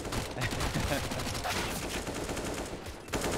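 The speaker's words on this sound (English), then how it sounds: "Cheeky little headshot from Mo" Rapid gunfire from a professional Counter-Strike match on the map Nuke, dense overlapping shots filling the whole stretch at steady loudness, with a brief dip near the end.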